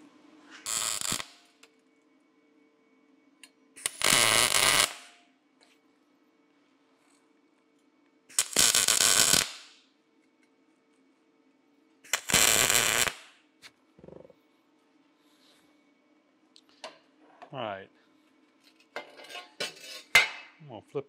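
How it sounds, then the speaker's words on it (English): Tack welding on steel for a hydraulic press frame: four short, separate bursts of crackling arc, each about a second long and spread several seconds apart, with quieter clinks of metal handling near the end. "So we're gonna go ahead and just tack them both."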